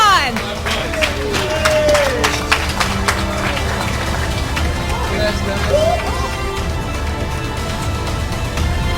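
A large crowd at a Call of Duty championship final claps and cheers for OpTic Gaming after their win, dense applause with scattered whoops, while an announcer speaks over the noise.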